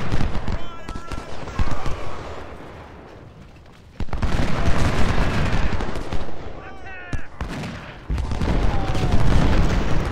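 Musket volleys and artillery fire from a Civil War battle in Ultimate General: Civil War crackle and boom steadily in a dense, continuous fusillade, with someone talking over the gunfire throughout.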